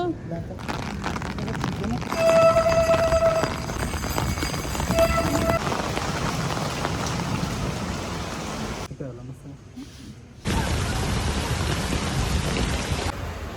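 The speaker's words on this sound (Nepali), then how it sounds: "पानी पर्दैछ, मौसम चेन्ज हुँदैछ" Continuous patter of rain with a constant hiss, briefly dropping out before returning; a few faint tones ring out early on.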